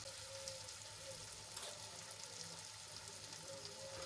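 Chopped tomatoes fry with pink-browned onions in a pan, giving a steady, faint sizzle that stays even throughout with no talk.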